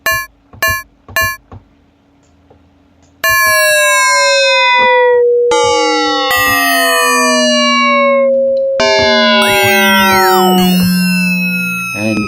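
Electronic synth drum hits with quickly falling pitch, first short and sparse, then longer ringing tones that turn metallic and clangorous as the modulation grows.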